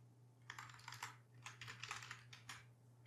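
Typing on a computer keyboard, a quiet close run of irregular key clicks in short bursts with pauses, over a low steady hum.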